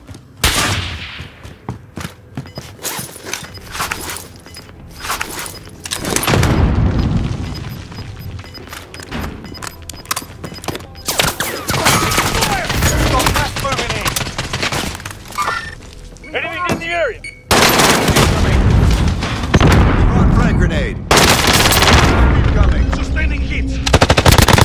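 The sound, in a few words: gunfire and explosions in Call of Duty Warzone video game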